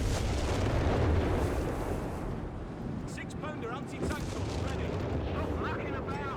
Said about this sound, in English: In the center, artillery firing down the Germans